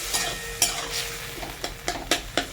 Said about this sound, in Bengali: ভালো করে নেড়ে চেড়ে নিচ্ছি